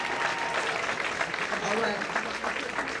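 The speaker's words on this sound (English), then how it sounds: "Give him a round of applause." Applause at a benefit reception for Danny Glover, a dense, steady clatter of many hands filling the room for the full three seconds, with a speaking voice briefly heard over it.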